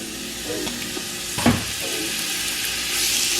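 Bacon hits hot oil in a pot, giving a steady close sizzle with a brief stirring clatter in the middle, no talking.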